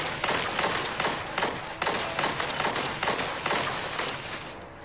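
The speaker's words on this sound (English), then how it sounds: "In this video I'll do the plasma cannon." Plasma cannon turret firing in the sci-fi shooter Angels Fall First, a regular series of about ten sharp blasts spaced roughly half a second apart, each with a short decaying tail, fairly loud and with no talking.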